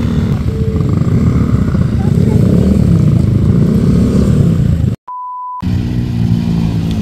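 A motorcycle engine runs loudly and steadily close by on Marilaque Road, with low rumbling throughout, briefly cut by a moment of near silence and a tone before resuming.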